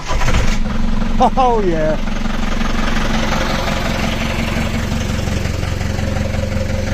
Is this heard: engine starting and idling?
yes